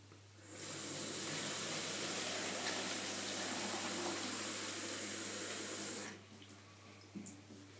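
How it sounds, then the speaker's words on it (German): Water runs steadily from a tap into a bottle for several seconds, a continuous rushing hiss that stops abruptly, followed by small clinks. "Nun befüllen wir die Flasche mit Wasser."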